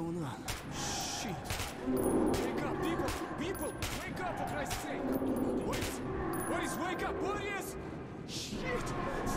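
Gunfire in the shooter game Metro 2033 Redux crackles in scattered bursts through a dense, noisy game soundscape, with a player's voice talking over much of it.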